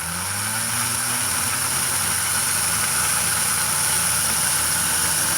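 An Athearn model locomotive motor running at full power with its wheels spinning, a loud, steady whirring drone with a faint rising tone at the start, continuous and close throughout.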